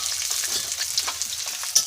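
Onions frying in hot oil make a close, busy sizzle with irregular crackles and spits scattered across the moment, one sharper pop near the end.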